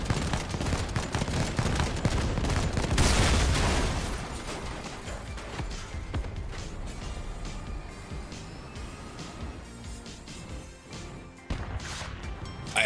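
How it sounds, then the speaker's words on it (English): Vehicle-mounted weapons in the Crossout combat game fire continuously in dense, loud bursts, with crashes and mechanical clanks throughout and an especially heavy barrage around the middle. "what is this damage and endless shooting?"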